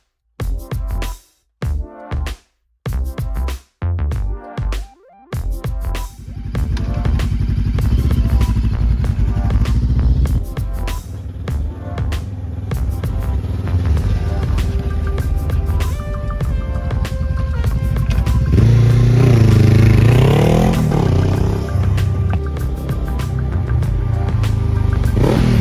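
A Bristol Venturi 500 inline-two motorcycle engine blipped in short sharp revs, then running loudly and continuously nearby, its pitch climbing as it revs harder toward the end.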